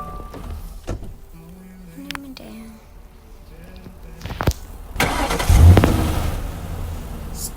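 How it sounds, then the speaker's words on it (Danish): A car engine runs while being parked: a low idle at first, with a person talking over it, then a louder rev and rumble in the second half. "så nu skal jeg også lige parkere bilen"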